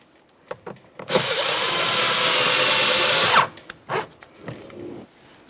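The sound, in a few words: power drill driving small screws into Jeep Patriot door panel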